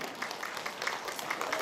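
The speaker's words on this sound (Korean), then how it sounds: "힘찬 박수 주십시오." Concert audience applauding at a variety entertainers' show in the Jongno-gu community hall in Korea, a brief, steady wash of clapping heard from within the room at moderate-low level.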